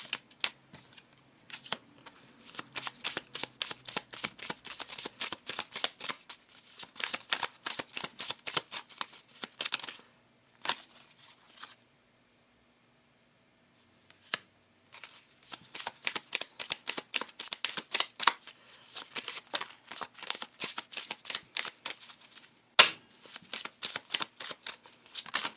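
Playing cards are shuffled over and over in quick riffling bursts, separated by short pauses and one longer silence, with no voices.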